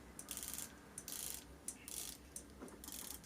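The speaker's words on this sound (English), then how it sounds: "this has a 120 click bezel, a very distinctive action" A Seiko dive watch's 120-click bezel being turned, giving close, crisp bursts of rapid fine clicks in four short runs with brief pauses between.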